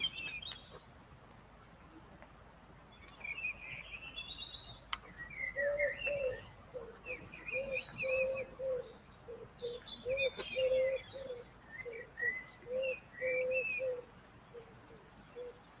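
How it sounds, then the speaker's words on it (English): Birds sing outdoors, with chirping, warbling phrases repeated in bursts alongside a steady run of lower cooing or whistled notes, moderately close over a quiet background. "Some lovely bird songs out there."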